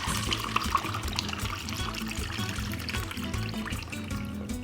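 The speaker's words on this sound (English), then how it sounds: "So I pour my drink straight up." A tequila drink is poured straight up into a salt-rimmed glass, a steady liquid splash partly masked by loud background music with a strong bass beat.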